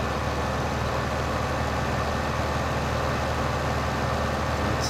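Tractor engine running in Farming Simulator while seeding a field with a full tank of seeds: a loud, steady, continuous drone with a dense low rumble that persists unchanged throughout, no speech over it.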